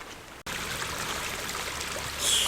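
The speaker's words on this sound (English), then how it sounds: "Flows between the rocks from up there." Rainwater flowing between rocks on high rocky ground, a steady close trickling wash that keeps going without a break after a brief cut near the start, with no voices.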